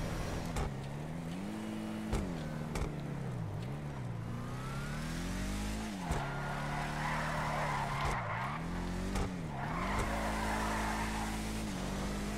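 A Bravado Gauntlet Classic, an old American muscle car in GTA 5, drives with a steady mid-pitched engine that rises and falls as it revs, with repeated tire skids and screeches over about twelve seconds.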